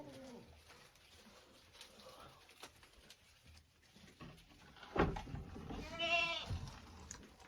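Young goat kids bleat in a livestock shed, a sharp cry rising near the end over a quiet, faintly noisy background with soft scattered sounds.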